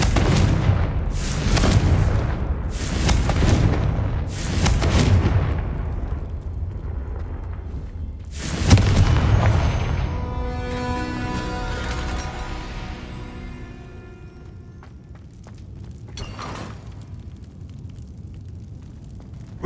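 Fire spell explosions in the video game Hogwarts Legacy burst out as several loud booming blasts in quick succession, then one big blast trails into a crackling, ringing tail, with a later softer burst over steady game ambience.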